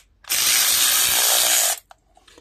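A power tool, likely a drill or impact driver, whirs loudly and steadily for about a second and a half, removing the 1/2-inch carburetor bowl bolt on a Briggs & Stratton 900 series engine on a log splitter, then stops abruptly.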